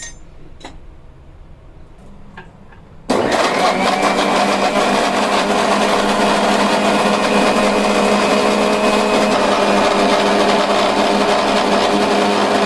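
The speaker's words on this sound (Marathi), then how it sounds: "मिक्सर ग्राइंडरमध्ये टाकूया। एक थोडंसं टाकून हे आपण ग्राइंड करून घेऊ।" A mixer grinder whirs steadily, grinding shredded cabbage, grated carrot and capsicum for veg momo filling; after a quiet kitchen start, the loud continuous motor drone kicks in suddenly and holds unbroken, with no talking.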